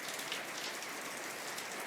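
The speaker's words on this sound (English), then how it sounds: "It's pouring rain," Pouring rain outdoors at an evening gathering: a dense, even hiss of heavy rainfall on surfaces, steady and constant, fairly faint and distant, with no talk.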